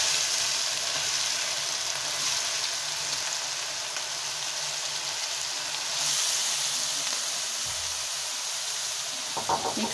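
One kilogram of crushed carrots for gajar halwa frying in a pan gives a dense, continuous hiss and sizzle that holds fairly level throughout, with a few faint knocks near the end.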